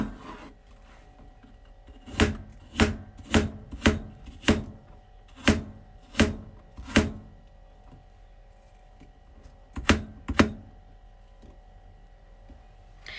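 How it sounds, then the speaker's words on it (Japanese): A knife chops apples on a cutting board in a home kitchen, about a dozen sharp, close knocks in an uneven rhythm, then a pause and two more cuts, with no talking. "でもあとリンゴ切り終わったらチーズ切るだけだから"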